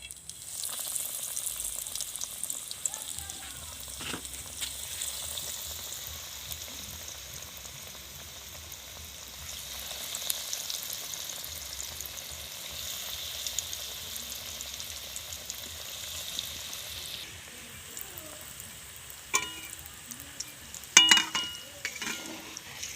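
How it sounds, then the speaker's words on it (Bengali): Egg cutlets fry in hot oil in a wok, a soft, steady crackling sizzle that stays faint and even for a long stretch, with occasional sharper pops and handling clatter near the end. "তেলটা গরম হয়ে গেছে খুব ভালোভাবে। এবার আমি কাটলেটগুলো ভেজে নেব।"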